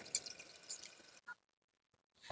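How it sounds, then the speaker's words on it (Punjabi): Water splashes and rushes into a watering can at a garden pot for about a second, then stops abruptly, leaving near silence broken by a couple of faint knocks. The sound is quiet and close, with no voices. "ਲੋ ਜੀ ਆਪਾਂ ਪਾਣੀ ਭਰਨਾ ਸ਼ੁਰੂ ਕਰ ਲਿਆ ਤੇ ਕੈਨੀ ਭਰ ਕੇ"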